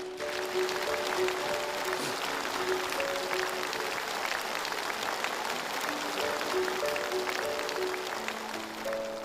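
A studio audience applauds steadily and fairly loudly on a television show, with sustained dense clapping and a faint tonal background underneath.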